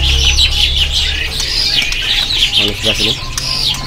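Songbirds chirp and whistle in bright, busy calls at a bird market stall, including white-rumped shama (murai batu), with someone talking over the birdsong and constant market background noise.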